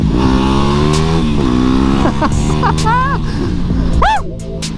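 A WR 250R motorcycle ridden at night through rough city streets, its engine a steady close drone that rises and falls with revs, with brief chirping sounds over it near the end.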